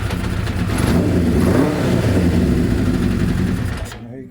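An old Kawasaki GPZ900R motorcycle with freshly cleaned carburetors and new wiring starts and runs in a garage, a loud, rough, busy engine rumble that idles briefly before cutting off abruptly, with a voice faintly beneath.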